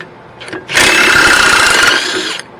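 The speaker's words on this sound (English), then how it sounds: "Take your 2 caliper bolts off." A power tool, such as an impact gun, whirs in one loud burst of under two seconds while loosening a brake caliper bolt on a Dodge Charger Scat Pack, close up in a garage, with a faint tap just before.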